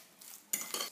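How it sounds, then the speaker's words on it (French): A utensil stirs and mixes a coriander filling in a bowl for brick pastries, giving two short bursts of close, bright scraping and clinking against a quiet background. "Je vais déjà mélanger tout ça."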